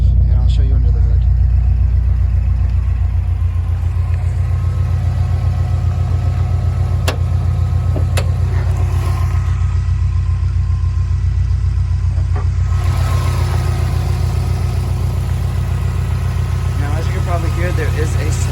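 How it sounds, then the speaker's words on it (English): A swapped 2001 Subaru Impreza GC8 coupe idles steadily and loud up close, a continuous low engine rumble carrying a slight throw-out bearing whine, with no pauses throughout. "There is a slight throw-out bearing noise. It's not crazy, but you can hear it."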